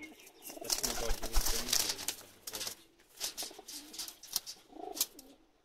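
Pakistani pigeons cooing close by in soft, repeated bursts with brief pauses, some rustling and wing movement mixed in, no voices.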